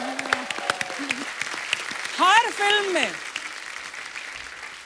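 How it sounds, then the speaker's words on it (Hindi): Clapping from a television comedy show's studio audience runs as a steady wash beneath a man's speech, swelling briefly partway through. "पहले तो जोरदार तालियां।"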